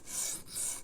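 Two long rasping strokes of a Rough Ryder Half Hawk knife blade drawn across a sharpening stone with 3D-printed angle guides, close and steady with a brief pause between passes.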